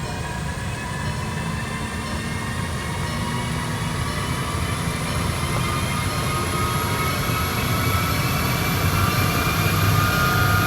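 A car engine held at steady high revs, around 3000 RPM in fifth gear, on a dynamometer with a large front fan blowing, giving a loud continuous drone with a faint rising whine and no talk.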